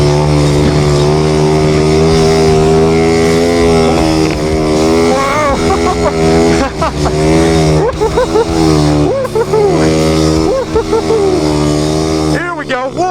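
A pit bike engine revs hard on a ride toward a jump, a loud, close buzzing drone that rises and falls in pitch with throttle changes, with shouting voices over it.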